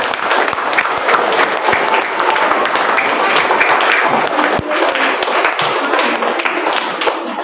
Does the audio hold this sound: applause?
yes